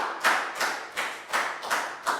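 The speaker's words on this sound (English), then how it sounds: "High five and a big round of applause for Prel," Classroom of Year 4 children clapping in a math lesson, several separate bursts of hand claps in a loose, repeating rhythm, close and fairly loud, with no voices.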